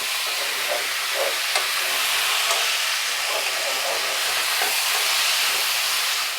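Spices frying in a pan for a prawn and pumpkin curry, a steady loud sizzle and hiss with small popping crackles, close and continuous.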